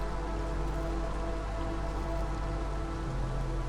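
Steady, dense rain during the storm season in the video game Against the Storm, a continuous even hiss with a low rumbling bed and no voices.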